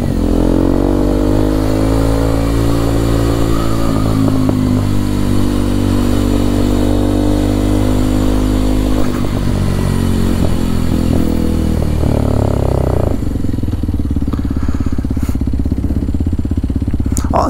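Kawasaki KLX 230SM motorcycle engine, a 2023 model, revving loud and close with rising and falling pitch as it accelerates, then settling into a lower steady drone with some clatter toward the end.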